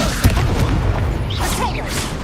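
Spell explosion from a Confringo cast during a duel in Hogwarts Legacy, heard as a deep booming burst near the start over a dense, roaring game soundscape with crackling effects and whooshes throughout.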